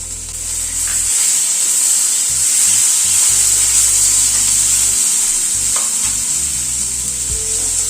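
Chopped drumstick, potato and tomato fry in a pan with a loud, steady sizzle throughout, broken by occasional stirring scrapes and clinks.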